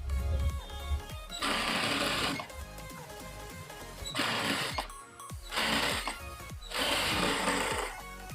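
Sewing machine stitching a strip onto a blouse, four bursts of rapid mechanical whirring separated by short pauses, close and moderately quiet.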